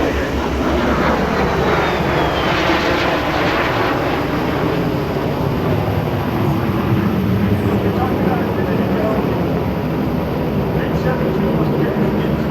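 A MiG-17 jet fighter roars steadily overhead during an aerobatic display at EAA AirVenture Oshkosh, a loud, continuous broadband engine rush with a commentator's voice under it.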